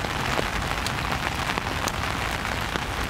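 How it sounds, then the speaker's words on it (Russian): Steady rain falling on surfaces outdoors, a dense continuous patter with scattered louder drops standing out, close and even throughout with no voices. "Дождь."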